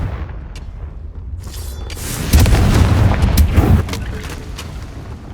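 A Confringo blasting spell from Hogwarts Legacy erupts in a loud, close boom with crackling bursts. Heavy rumbling holds for over a second before settling into a lower, lingering roar.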